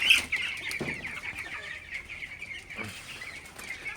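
Many broiler chickens clucking and chattering together in an enclosed shed, a dense, continuous flock murmur with occasional louder calls.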